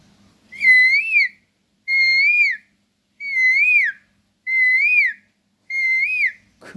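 A voice imitates an Asian koel call: five rising whistled notes repeated at an even pace, clear and close, with short silences between.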